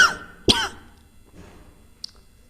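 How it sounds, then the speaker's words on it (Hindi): A person coughs twice close to the mic, a short rough burst and then a sharper second one, followed by quiet room tone. "थोड़ा इस समय मौसम चेंज हो रहा है तो वही थोड़ी खांसी है"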